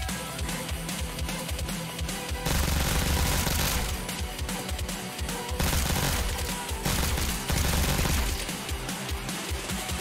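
Rapid burst-fire gunshots from the VR rhythm shooter Pistol Whip, dense volleys of sharp cracks layered over a thumping electronic music track, continuous and loud.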